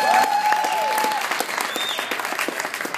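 Audience applause fills a Toastmasters comedy night, steady dense clapping with a few whoops, loud and close, fading slightly toward the end.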